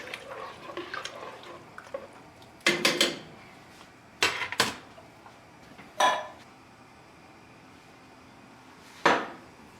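A pot of Italian wedding soup is stirred, a spoon knocking and scraping against the pot in a few sharp clanks spaced seconds apart over a quiet background of faint kitchen clatter.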